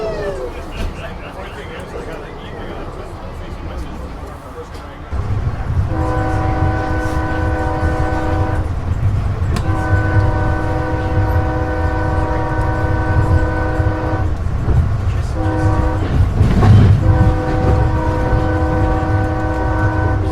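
A passenger train passes close by, its horn sounding in several long, steady blasts over a loud continuous rumble of wheels and cars on the tracks in rural Wisconsin.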